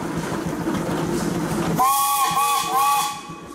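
A 1925 A.D. Baker steam traction engine at a pioneer engineers' parade sounds its whistle: a loud, steady multi-tone blast that starts partway in over crowd and engine rumble, then wavers and trails off.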